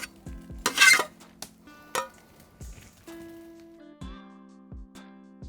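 Fat-tail lard renders in a kazan with quiet sizzling as scattered utensil clinks and scrapes against the pot ring out, several sharp knocks spaced across the stretch.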